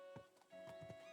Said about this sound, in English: I'm getting a horse.